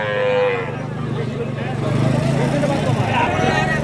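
Bulls moo loudly and close by at a cattle market, with long low calls. People talk in the background.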